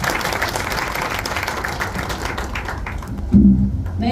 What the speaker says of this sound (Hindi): सो एक बार मेरे बेटे के लिए तालियां हो जाएं।